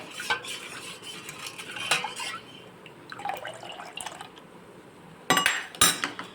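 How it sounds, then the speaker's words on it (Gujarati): Ingredients being mixed by hand in a bowl for a puri and spiced water dish, with soft scraping and clinking of a utensil, a few sharper knocks near the end, no talk. "પહેલાં આપણે બધું મિક્સ કરી લઈશું આવી રીતે"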